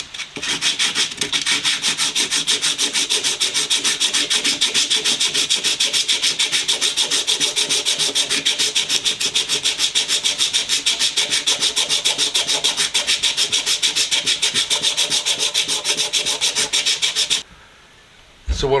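Sanding on a vintage Columbian 143 bench vise, a steady, loud rasping rub that continues without pause for about seventeen seconds and then stops briefly near the end.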